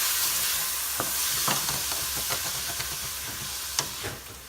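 Red bell pepper and garlic sizzle and hiss in a hot pan as it is deglazed, with steady frying noise and a few soft stirring scrapes and clicks, close and moderately loud, with no talking.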